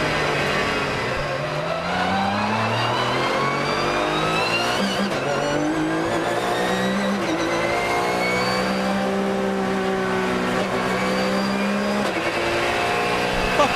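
A Porsche GT3 Cup race car accelerates hard on a public road in Germany, its loud engine note climbing through repeated rising sweeps and gear changes, close and continuous throughout.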